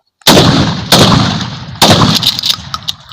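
Rifles fire during firing practice: three loud, sharp shots spaced roughly a second apart, each followed by a long echoing tail across the range, with smaller crackles toward the end.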